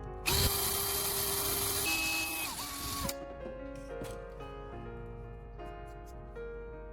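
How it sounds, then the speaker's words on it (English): An electric drill whirs loudly for about three seconds drilling small holes for a DIY TV antenna, pitch shifting as it bites, then stops, leaving quieter mechanical whine and clicks. "I carefully drill small holes through the marked points using an electric drill."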